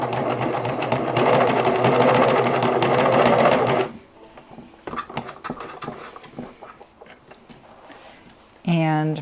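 A Singer 9420 sewing machine with its needle bar set slightly low runs loud and steady for about four seconds while skipping stitches, then stops, leaving faint clicks and handling noises before a short whirring burst at the end.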